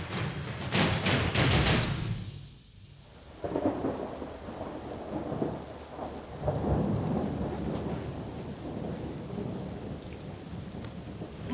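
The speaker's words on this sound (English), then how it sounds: "It hasn't just been raining, it's been tipping it down all night" Heavy overnight rain pouring down steadily with rolling thunder cracking loudly at the start, then a dense, constant downpour hiss with further low rumbles underneath.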